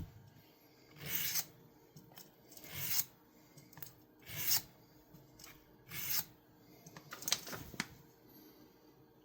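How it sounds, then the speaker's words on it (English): Close, raspy swipes as a Swiss Army knife blade is stropped, about six separate strokes at an even, unhurried rhythm, with quieter scraping in between. "And he's got an edge on him, so just maybe stropping will work."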